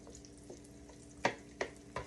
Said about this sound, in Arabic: هذا فوق اللحم، ونحمس اللحم